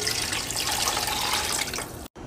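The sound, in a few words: beef stock being poured into a pot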